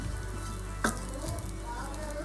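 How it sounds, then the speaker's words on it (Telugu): Oats frying in a pan, a steady soft sizzle throughout with one sharp clink of a utensil partway through, close and alone. "తర్వాత కొంచెంగా ఇది ఫ్రై అయిపోతుందండి, ఈజీగా ఫ్రై అయిపోతుంది."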